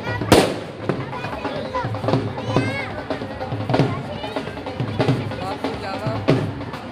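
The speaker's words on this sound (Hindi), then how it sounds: "ये पटाखे जला रहे हैं सारे" Firecrackers being set off at a Chhath Puja gathering, with repeated sharp bangs and crackles every second or so amid crowd noise and nearby talking.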